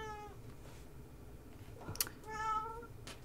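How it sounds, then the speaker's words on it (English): A domestic cat meows twice indoors from fairly close by, each call a drawn-out, rising-and-falling whine, with a brief sharp click between them over a quiet background. "My cat is meowing."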